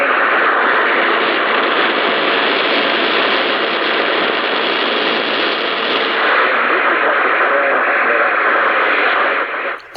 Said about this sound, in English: Definitely got noise on the band.